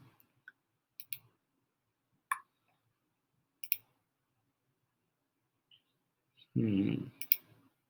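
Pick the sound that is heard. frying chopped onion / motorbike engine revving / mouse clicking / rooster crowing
mouse clicking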